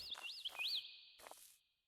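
A bird-like passive mob in the block-building video game Lucid Blocks gives a few quick, rising whistled chirps close up, then falls quiet after a short pause.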